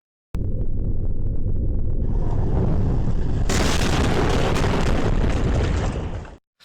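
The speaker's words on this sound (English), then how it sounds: "The sound was an intense rumbling noise, followed by an audible explosion." A loud, continuous rumble builds and then breaks into a sustained explosion sound effect that roars for several seconds before cutting off abruptly.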